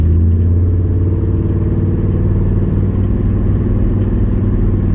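V8 engine of a 1970 Chevy C10 Suburban pulling hard under acceleration, a loud, deep, continuous rumbling roar heard from inside or close by, with no voices.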